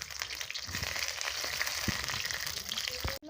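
Eggs frying in a pan, a steady soft sizzle and crackle with occasional scrapes of a spatula stirring them about, fairly quiet and close with no talking.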